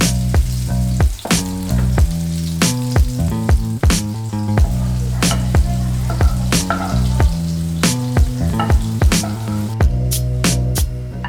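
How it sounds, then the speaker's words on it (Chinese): Meatballs frying in hot olive oil in a pan, a continuous loud sizzle punctuated by repeated sharp clacks and pops, likely as the balls are turned, going on without talk. "油热后将丸子放入锅中"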